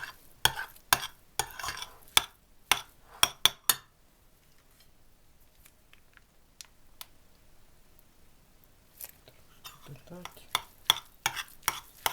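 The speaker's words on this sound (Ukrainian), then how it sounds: "І це все ми розмішаємо" A spoon clinks and scrapes against a bowl in bursts of quick strokes, stirring a grated salad with mayonnaise and garlic, pausing in the middle before resuming, close and fairly crisp.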